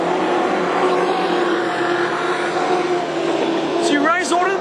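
Speedway race cars roar around a dirt track during a national final at Carina Speedway, a dense, continuous engine drone with rising revs near the end as a car passes close, under steady commentary.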